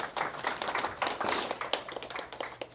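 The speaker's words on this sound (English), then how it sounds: "Give me a little round of applause." Audience applause at a health workshop on cancer prevention, a modest group clapping in quick, irregular bursts, fairly close and moderately loud, swelling briefly in the middle before thinning out toward the end.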